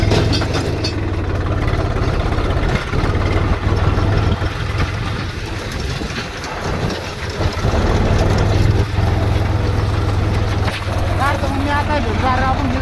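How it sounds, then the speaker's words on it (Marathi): A tractor stuck with a tyre in a roadside ditch has its engine running, a loud, steady low idle rumble that continues throughout, with people talking over it. "तर पब्लिक आपलं ट्रॅक्टर अडकलंय."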